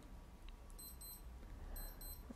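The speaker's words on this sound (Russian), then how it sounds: "А сейчас будильник, внимание." A Casio EQB-1000D digital wristwatch alarm: short electronic beeps repeat in two quick bursts, high and thin, over a steady low background hum with no voices.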